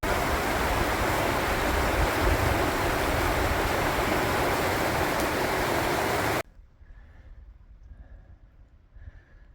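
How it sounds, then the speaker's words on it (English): Freezing rain falls on a hiking trail as a loud, steady hiss of pattering drops, close up, before it cuts off abruptly into near silence with only faint tones behind. "Got some freezing rain."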